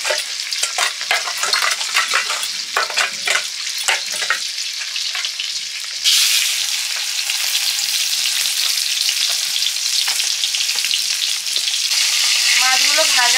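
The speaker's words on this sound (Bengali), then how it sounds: "মাছের মুড়ো ভাজবো, সরষের তেল দিলাম" A large silver carp head, from a fish of roughly 3.5 to 4 kg, fries loudly in mustard oil: dense, snapping crackles at first, then a thicker, continuous sizzle from midway on, close up and without talk.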